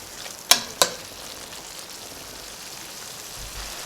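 Stir-fry vegetables softening in a pan with a Sunday lunch of stews and carrot rice, two sharp utensil knocks against the pan near the start over a steady soft sizzle that continues alone afterward.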